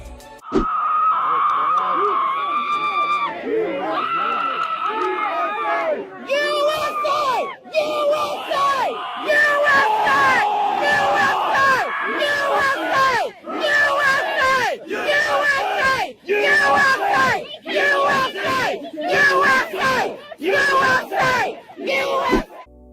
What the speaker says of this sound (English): She starts screaming and shouting in front of them and making a huge noise.